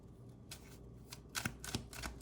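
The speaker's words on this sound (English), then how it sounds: "I just randomly stopped shuffling" Tarot cards shuffled by hand in a quiet room, a few crisp riffling bursts and soft slaps spaced across a couple of seconds, close and fairly faint.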